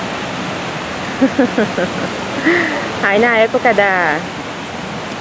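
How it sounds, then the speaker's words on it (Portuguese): Water gushing steadily from the face fountain in Millennium Park, Chicago, a constant loud rushing splash heard throughout while people talk over it. "Aí na região da boca dela vai jorrar uma água"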